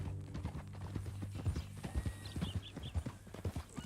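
Horse hooves clip-clop steadily in Red Dead Redemption 2, a close, regular rhythm of hoofbeats on a trail with a faint background ambience and no talking.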